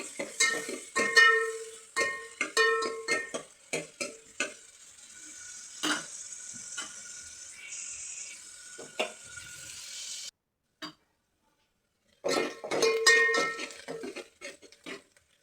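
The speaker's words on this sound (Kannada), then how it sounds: "ಈರುಳ್ಳಿ ಚೆನ್ನಾಗಿ ಫ್ರೈ ಆಗಲಿ" Finely chopped onion frying in oil and ghee in a pan for a simple saagu curry, with a soft sizzle under repeated scraping and clinking of a stirring spoon, a short silent gap, and then more stirring.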